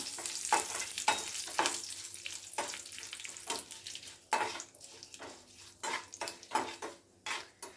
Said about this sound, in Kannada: ನೆಕ್ಸ್ಟ್ ಇದಕ್ಕೆ ಕರ್ಬೇವಿನ ಸೊಪ್ಪು ಹಾಕಿ ಸ್ವಲ್ಪ ಫ್ರೈ ಮಾಡ್ಕೊಬೋಣ.